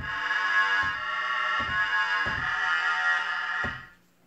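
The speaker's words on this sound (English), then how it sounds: "For this demonstration, I'm going to use a sawtooth waveform." A Korg NTS-1 digital synthesizer sawtooth oscillator holds a steady, bright, buzzy tone for several seconds, with a few soft thumps underneath, then cuts off.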